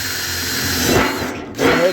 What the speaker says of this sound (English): go ahead and drill several holes in it